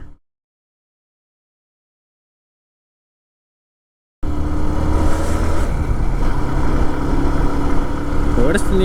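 A pickup's engine runs on a morning road trip from Bangalore to Raichur, starting abruptly after silence and holding a steady, loud low rumble with road noise.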